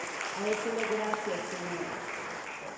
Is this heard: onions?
no